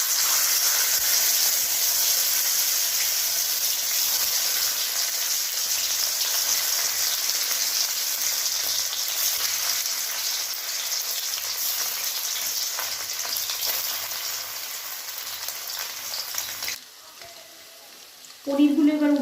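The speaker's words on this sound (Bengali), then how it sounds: "তেলটা গরম হয়ে গেছে, এবার পনিরগুলো এর মধ্যে দিয়ে দেবো ভাজার জন্য।" Paneer cubes fry in hot white oil in a wok with a loud, steady sizzle that runs on without pause, then abruptly drops away near the end.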